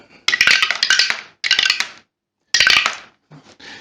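Three bursts of sharp clacking rattles, like small hard objects tumbling down a chute, separated by short silences, ending with a few faint clicks.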